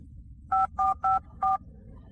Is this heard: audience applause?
no